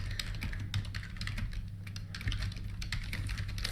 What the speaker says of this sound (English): I'm literally typing things in.